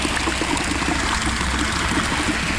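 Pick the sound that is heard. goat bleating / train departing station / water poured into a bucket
water poured into a bucket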